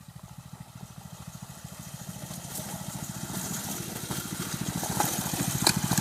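A Coleman CT200U trail bike engine runs steadily close by with a fast, even low chugging pulse that grows slightly louder as it works on, and no one talking.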